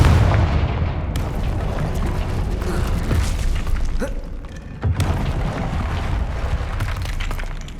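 Confringo spell explosions in Hogwarts Legacy: loud, close booms with crashing, shattering debris, two sharp blasts standing out over a dense rumbling game mix, with no talking.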